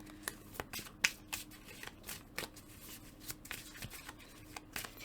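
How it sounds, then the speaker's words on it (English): Tarot cards are shuffled by hand, with soft, close riffling and crisp snaps coming in quick irregular bursts against a quiet room. "I just want to try to shuffle to see if there's any flyers or jumpers"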